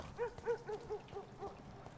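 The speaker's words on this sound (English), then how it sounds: "I heard a dog." A dog barks several times in quick succession inside the video game Vampyr, moderately near and fairly faint, the yelps rising and falling over a quiet ambient background.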